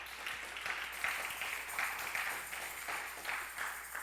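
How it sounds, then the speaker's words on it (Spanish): A church congregation applauds during a Spanish-language Sunday service. The clapping swells in repeated surges, with a faint steady hum underneath. "Dele un aplauso al Señor."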